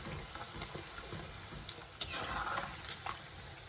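Chicken pieces fry in a pan for sambal, a quiet steady sizzle with occasional clinks and scrapes as the meat is stirred.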